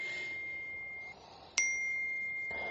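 A mobile phone notification ding in a home: a bright chime rings out once, sharp and close, then its tone sustains steadily over quiet room ambience, with no talking.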